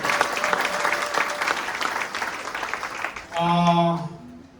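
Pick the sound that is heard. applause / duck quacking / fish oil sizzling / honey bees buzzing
applause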